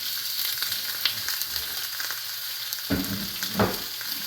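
Thick pork chops sizzle and fry in a hot pan, cooked two at a time, with a steady crackling hiss throughout and a few louder spatters and stirring bumps near the end.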